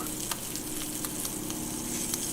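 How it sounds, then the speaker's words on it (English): Steady oily sizzling of garlic and shrimp frying in olive oil in a hot pan, continuous and close, with a few small pops and crackles scattered throughout. "Let's start by frying up a little garlic with some olive oil"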